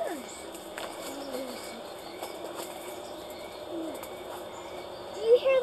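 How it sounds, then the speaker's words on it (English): Birds chirping and cooing softly in an open outdoor space, with a brief louder call near the end. "Those are birds, honey."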